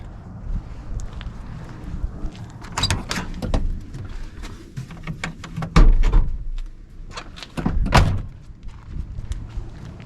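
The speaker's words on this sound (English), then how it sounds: "How nice do those doors close?" Doors on a 1987 pickup truck with a fuel-injected 350 engine swing shut in several solid thunks, the loudest near the middle and the last, with wind rustling the microphone between closes.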